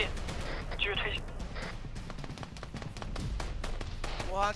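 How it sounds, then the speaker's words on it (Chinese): Rapid gunfire from return fire in the military shooter game Arma 3, with repeated sharp cracks spread across the clip under steady background noise and a voice talking over it. "我好像听到反击的声音了。"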